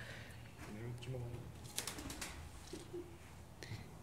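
Pigeons coo softly in an abandoned mansion in Oregon, low murmuring calls scattered through a quiet interior while people talk nearby.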